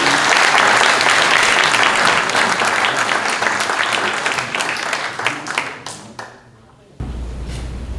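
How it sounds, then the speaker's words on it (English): Applause at a local meeting: a crowd in a room claps loudly and steadily for several seconds, then the clapping thins to a few scattered claps and stops before a low hum takes over. "Round of applause for Norm, please."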